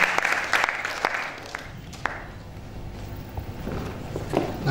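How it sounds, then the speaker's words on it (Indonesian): An audience at a leadership talk claps in a burst that starts loud and thins into scattered claps, heard in a room with low background noise. "Tapi sekali lagi saya ingin memberikan tepuk tangan buat 5 orang ini."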